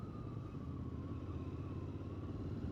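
A 2022 Royal Enfield Interceptor motorcycle engine drones steadily while being ridden, fairly faint and even, under some road and wind noise.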